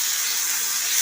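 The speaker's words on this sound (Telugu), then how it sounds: "ఇప్పుడు టమాటాలు కూడా వేసి వేయించేయాలి" Tomatoes and onions fry in a hot pan for an egg, potato and tomato curry, making a steady, even sizzling hiss close by with no voices.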